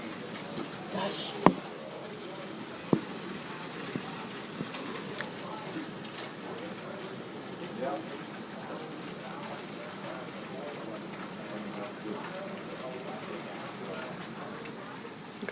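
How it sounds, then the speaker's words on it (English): Hail falling outside: a steady wash of rain-like hiss with a few sharp, isolated ice impacts, the loudest two close together early on. "Oh, there's one hail here. Look. It's ice."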